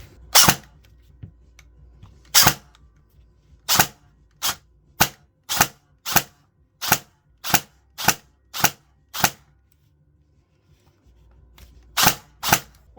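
Rapid sharp cracks from an upgraded G&G M4 airsoft rifle being test fired: a couple of isolated shots, then a quick even run of about ten snaps, then two more shots, loud and close in a quiet room.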